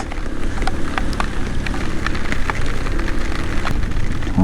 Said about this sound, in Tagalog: Malakas na yung ulan, lalo pang lumakas.